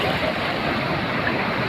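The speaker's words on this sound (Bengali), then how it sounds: "সমুদ্রের এই যে ঢেউগুলো" Sea waves break in a loud, close, continuous roar of surf, with wind buffeting the microphone and no voices.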